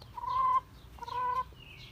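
Chickens on a small farm coop give two short, nasal clucking calls with a pause between, fairly close and moderately loud, with no talking over them.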